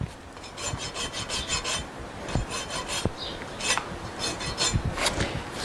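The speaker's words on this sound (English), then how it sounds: "I'm just using the rasp mainly to clean his feet a little bit." A steel rasp files a horse's bare hoof during a barefoot trim, with rhythmic back-and-forth rasping strokes in quick repeated bursts, close and fairly loud, and no talking.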